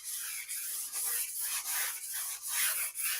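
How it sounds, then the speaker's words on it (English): Sandpaper rubs on a musical saw blade in rhythmic back-and-forth strokes, about eight close, scratchy passes with brief gaps between them, heard alone. "I'm gonna slide a little sandpaper."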